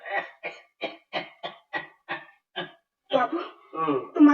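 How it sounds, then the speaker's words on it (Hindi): An ailing man coughs in a series of eight short, sharp, evenly spaced bursts, close and loud, followed by a few longer rasping, voiced coughs and throat sounds. "बाबू, तुम्हारी खांसी तो बहुत जोर पकड़ गई है"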